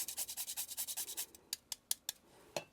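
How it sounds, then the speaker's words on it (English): Whole nutmeg rasped over a grater into cake batter for a sour cream raisin cake, a quick series of soft rhythmic scraping strokes followed by a few scattered taps, faint and close. "So we'll grate in a little bit of nutmeg"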